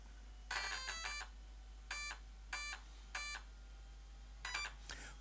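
An RC car's 120A brushless ESC running on a 3S battery gives a set of quiet electronic beeps, a short triple chirp followed by several more separate tones at a steady pace, with a low constant hum underneath.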